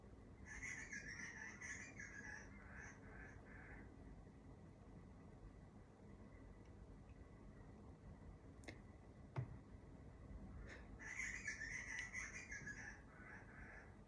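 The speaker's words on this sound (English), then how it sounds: "Little butcher bird singing me a little serenade." A butcher bird sings outdoors in two bursts of bright, warbling phrases, one at the start and one near the end, with a quieter stretch between them, over a steady background hiss.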